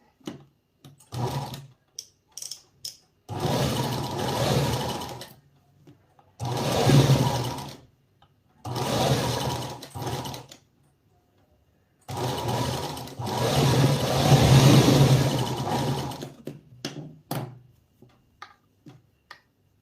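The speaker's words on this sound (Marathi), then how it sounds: "मी यावरती परत एक शिलाई मारून घेणार आहे बारीक टाकायची" Sewing machine stitching a fine seam on a princess blouse, running in several separate bursts of a couple of seconds each, with a fast rhythmic whirring clatter and quiet handling clicks in the pauses.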